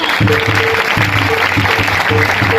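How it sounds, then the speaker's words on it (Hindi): Church congregation clapping fills the space in a loud, continuous burst, with a voice and low tones breaking in at intervals beneath the applause. "सब में ताली लगाएं, सब ताली लगाएं"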